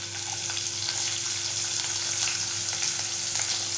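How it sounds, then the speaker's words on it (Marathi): Finely chopped onion fries in hot oil with cumin and mustard seeds, making a loud, dense, steady sizzle close by, with faint crackles throughout. "मोहरी जिरं छान फुललं की त्यामध्ये बारीक चिरलेला कांदा घालूया।"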